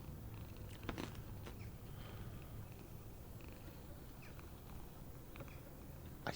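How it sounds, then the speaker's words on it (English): A cat purrs in a horror video game set in the summer of 1958: a continuous low, close rumble with a few faint creaks and clicks scattered on top. "I hear a cat."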